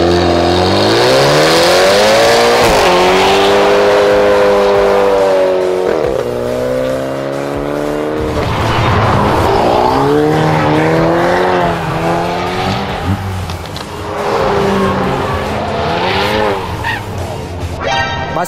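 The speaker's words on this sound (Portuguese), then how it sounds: "esse cara acabou de rodar no meio de um track day onde os carros estavam vindo embalado atrás" A BMW spins out on a track during a track day, tires squealing loudly over a revving, wavering engine, with skidding that rises and falls throughout and no pause.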